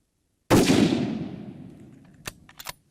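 A single loud rifle shot is fired at a kangaroo on Australian farmland. The sharp crack rings out and decays over about a second, followed by a few faint mechanical clicks.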